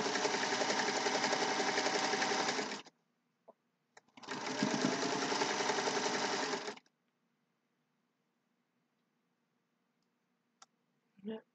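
Sewing machine stitching a quilt block seam in two steady runs of a few seconds each, with a pause between, faint clicks and a soft click near the end.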